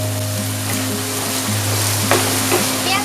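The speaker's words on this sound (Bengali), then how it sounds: "এখন গ্যাসের আঁচটা বাড়িয়ে দিয়ে পেঁয়াজটাকে খুব ভালো করে ফ্রাই করে নেব, যেন একদম ব্রাউন হয়ে যায়" Onions frying in hot oil over a raised gas flame, cooked until brown for a rohu fish korma; a steady broad sizzle runs throughout with occasional stirring clinks, close and fairly loud.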